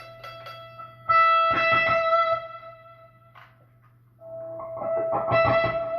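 An electric guitar plays a short solo lick with distorted, sustained notes and a bend, two phrases separated by a brief pause.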